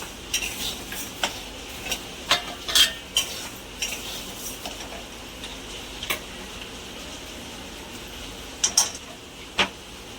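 Indrayani rice is stirred and roasted in a pan over low heat. A quiet, faint scrape runs underneath, with scattered sharp ticks and clinks of the utensil against the pan.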